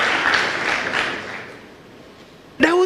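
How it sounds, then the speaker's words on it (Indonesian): A church congregation applauding during a sermon, a broad wash of clapping that gradually fades over a couple of seconds before the preacher's voice returns. "Berikan tepuk tangan ya meriah buat Tuhan."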